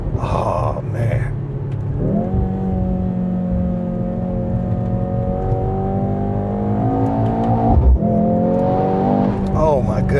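A 2025 Mercedes-AMG GLC 63 S E Performance, pairing a 2-liter four-cylinder with an electric motor, pulls hard with a rising, tonal exhaust note heard from inside the cabin. The pitch climbs smoothly, a shift comes near the end, and speech sits underneath.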